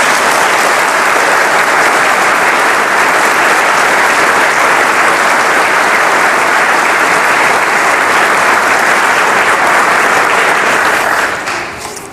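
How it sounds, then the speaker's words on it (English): Church congregation applauding steadily and loudly for about eleven seconds, a dense wash of clapping from many hands that fades out near the end, before a deacon's homily. "Always makes me nervous when the applause comes before the homily."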